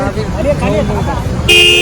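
Heavy road traffic on the way to Lonavala, engines rumbling under a man's speech before a sharp, loud car horn blast cuts in at the end.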